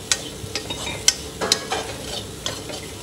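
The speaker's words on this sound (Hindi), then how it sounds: "इसको आप बीच बीच में चलाते ज़रूर रहें, क्योंकि जो पैन है हमारी कढ़ाई उसमें तेल बिल्कुल नहीं है" Onions stirred in a dry kadhai with no oil, a spoon scraping and clinking against the pan in irregular strokes with a light sizzle, close and fairly quiet, no voices.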